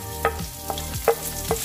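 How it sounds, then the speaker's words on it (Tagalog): Garlic and onion sauté in a little oil in a pan, with four quick scraping stirs at a steady rhythm over a low background hum and no talking. "Tapos igisa na natin yung ating bawang."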